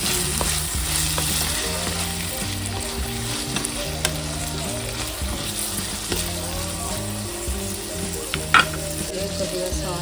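Brinjal (eggplant) fries with onions in a pan, a continuous close sizzle broken by occasional stirring scrapes and clinks, with no voices.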